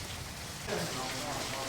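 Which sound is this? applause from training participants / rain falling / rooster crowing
rain falling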